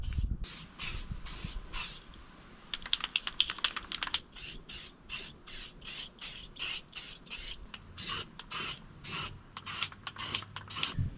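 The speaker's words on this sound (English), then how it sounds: "I did a quick spray here and there." Rapid hissing bursts of spray-on bedliner from an aerosol can coat the bed of a Suzuki Carry, close and repeated in a steady on-off rhythm with a quick flurry of short squirts in the middle.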